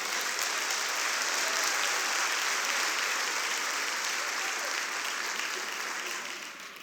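A church congregation breaks into steady, full applause, dense even clapping that carries on at moderate level before tapering off slightly at the close.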